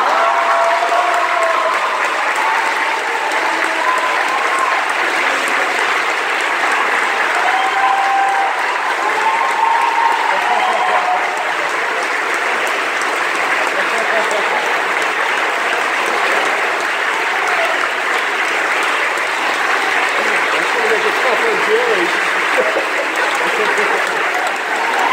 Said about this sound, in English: You can clap for me now